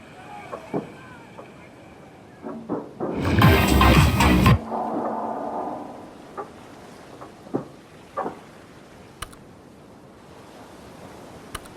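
An overloaded lifeboat carrying 70 people drops into the sea in a Roblox Titanic game, hitting with one loud, broad splash midway, then small scattered clicks and water sounds.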